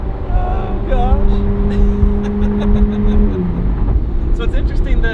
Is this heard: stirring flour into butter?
no